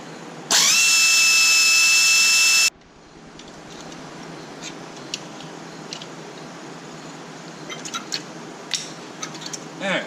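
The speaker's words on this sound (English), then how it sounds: "Alright, so we'll pull this caliper off of here." Power tool whirs loudly for about two seconds while removing a brake caliper from a Ford F150 in a shop, then stops, leaving low background noise with faint clinks.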